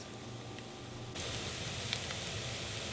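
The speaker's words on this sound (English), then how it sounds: "Brown the chopped onions with a tablespoon of olive oil." Chopped onions browning in a tablespoon of olive oil give a steady, close sizzle and hiss that grows a little louder partway through, with no voices.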